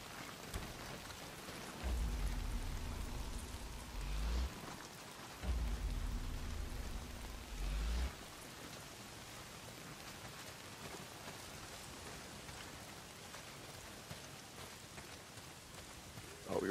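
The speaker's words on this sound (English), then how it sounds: "Well, not if it's pissing down rain." Steady rain pours down in the video game Days Gone, a dense wash of falling water that runs throughout. Heavy low rumbling swells twice near the start before the downpour continues alone.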